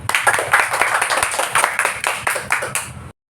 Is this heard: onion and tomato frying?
no